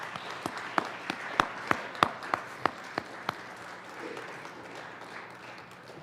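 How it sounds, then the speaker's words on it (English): An audience in the Colorado Senate chamber gives a round of applause for a former senator: a dozen or so sharp, distinct claps ring out in quick succession, then thin into scattered, softer clapping that tapers away. "Let's give her a round of applause."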